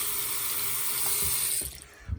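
Cold water runs hard from a hallway bathroom faucet with strong pressure, a steady close hiss and splash that cuts off near the end, leaving a few faint drips and knocks.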